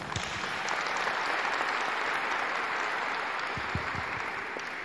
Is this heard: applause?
yes